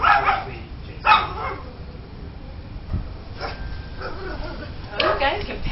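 Dogs bark in short separate outbursts, a few loud yips spread across several seconds, fairly close, with people talking between and under the barks.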